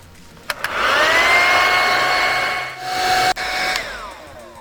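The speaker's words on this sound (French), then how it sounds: "le casque sur le séchoir. Je branche, bien entendu. Et c'est parti." A hood hair dryer runs with a steady loud whine and rushing airflow, starting after a couple of clicks, dipping briefly near the end with another click, then winding down as it is switched off.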